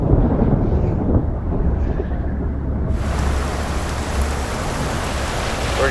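A fast-moving thunderstorm roars as a dense, steady wash of heavy rain, loud and close throughout, with low rumbling underneath and no voices.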